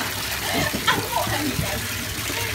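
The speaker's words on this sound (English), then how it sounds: "We got to rinse your hands off." Tap water runs and splashes while a small child's soapy hands are rinsed, a short, soft gushing with light splatter and some vocal sounds over it.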